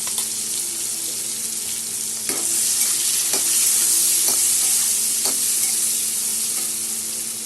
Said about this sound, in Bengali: এখন এটা ভেজে নেব